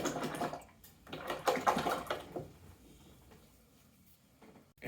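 A flat paintbrush rinsed in a jar of water during a still life painting session: two close bursts of sloshing and swishing, then quieter trickling that fades away.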